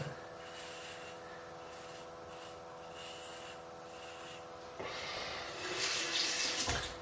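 A razor with a fresh blade is rinsed under running tap water during a shave. The water starts partway through as a steady hiss that grows louder and splashier, heard close up.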